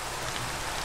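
Steady rain pours in a video game world, a dense, even hiss filling the whole moment close and loud before cutting off abruptly at the very end.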